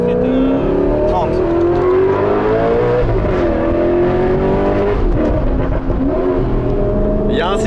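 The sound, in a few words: Alfa Romeo 8C Spider engine accelerating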